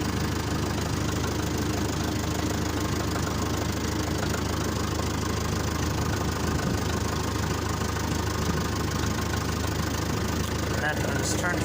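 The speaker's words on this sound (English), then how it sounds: "I'm just gonna have to lift the loader first." A Fordson Major tractor engine runs steadily while lifting its loader, a loud, continuous, close-up diesel chug with a knocking rhythm and no break.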